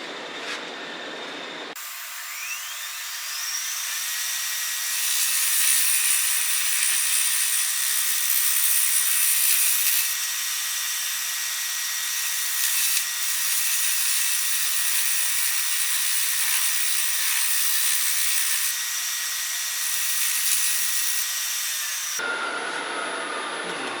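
A lathe turns a walnut bowl inlaid with aluminium and acrylic, giving a loud, steady high-pitched cutting whine and hiss. The sound holds for about twenty seconds, then the tool lifts off abruptly and the whine stops.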